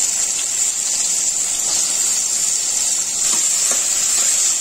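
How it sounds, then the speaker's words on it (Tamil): Chopped large onions frying in a pan for Chettinad chicken gravy give a steady, close hiss of sizzling, broken only by a few faint soft clinks, with no voices. "இப்ப வெங்காயம் நல்லா வதங்கட்டும்."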